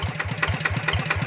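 A tractor engine chugs at idle in a rapid, steady pulsing rhythm while ploughing a flooded rice field, close and fairly loud, with no voices.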